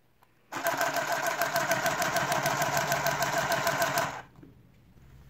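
A cordless handheld mini sewing machine stitches fabric with a loud, close, rapid mechanical whirring chatter that runs steadily for about three and a half seconds, then stops abruptly.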